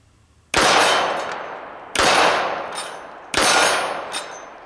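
Three ringing .45 caliber hits on a steel Sniper Paradise target, each a sharp metallic clang that decays slowly, spaced about a second and a half apart, with no talk.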